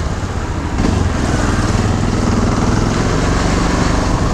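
A 13-year-old Yamaha XT 660 motorcycle with twin exhausts runs nearby, its steady, loud single-cylinder thump rising slightly after a moment and continuing evenly without talk.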